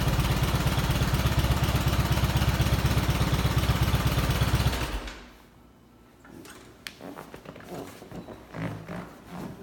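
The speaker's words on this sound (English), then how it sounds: "there's that low idle" A restored Allis Chalmers tractor engine runs at low idle with a loud, steady, rapid chugging that cuts off about halfway, leaving quieter scattered clunks and knocks.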